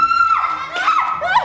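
A person cries out in a high, wavering, shrieking voice across several loud bursts, close by, with a rising and falling pitch and no other sounds underneath.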